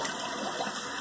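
Water running from a tap for rinsing after a shave, a brief, steady rushing gush heard close and fairly loud, with no talking.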